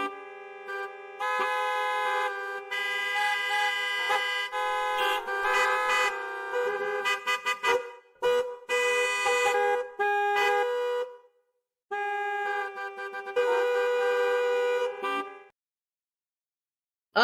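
Car horns honk in Chicago's Monday morning expressway traffic: long, loud, overlapping blasts in several tones come in sustained bursts, with brief quiet gaps between them.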